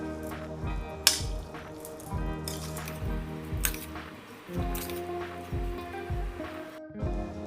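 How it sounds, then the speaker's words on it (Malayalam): Raw beef chunks are mixed by hand with salt for a beef curry, producing soft wet squelches and squishes in an irregular rhythm, close and fairly quiet, over a faint steady tonal background. "ഉപ്പും കൂടി ഇട്ട് നമുക്ക് മിക്സ് ചെയ്യാം."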